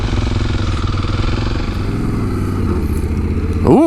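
A Kawasaki Super Sherpa 250 dual-sport motorcycle engine idles steadily nearby with a loud, even thumping, and a rev rises at the very end.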